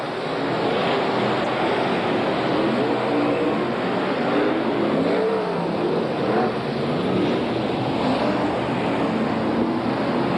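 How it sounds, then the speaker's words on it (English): Race cars at Archerfield Speedway in 1981 make a dense, roaring wash of engine noise, loud and continuous, with wind-like rumble and no clear single passes. "Cars everywhere"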